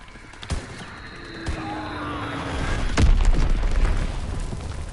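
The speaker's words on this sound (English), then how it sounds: "Azon bomb mission underway" Azon bomb killstreak explosions in a PS4 video game: a sharp pop, then a second thump, then a deep rolling boom that swells and lingers over a low rumble.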